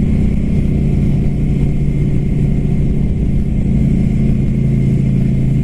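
A Ducati Scrambler Flat Track motorcycle engine drones loudly and steadily at close range, holding a fairly even pitch throughout without sharp revs.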